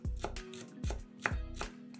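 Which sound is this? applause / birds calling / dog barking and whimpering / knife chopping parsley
knife chopping parsley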